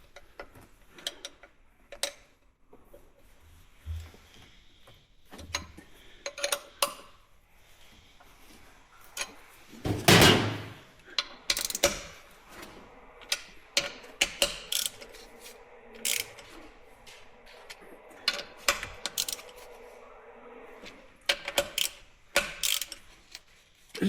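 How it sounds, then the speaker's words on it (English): Long wrenches tightening a newly fitted carburetor in a cramped engine space give scattered close metallic ticks, ratcheting clicks and clanks, irregularly spaced, with one louder clatter partway through. "Not a lot of room to swing these big long wrenches."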